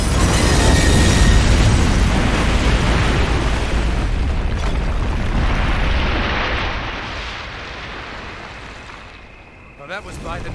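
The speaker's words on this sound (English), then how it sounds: "Detonate on my command." A massive detonation in the World War II shooter Call of Duty: United Offensive, a loud, sustained roaring blast that rumbles on for several seconds and slowly fades.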